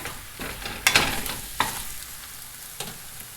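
An egg sizzles in a hot pan while fried rice is made. The crackle is close and steady, with a few sharp scraping stirs and taps, and no one speaks.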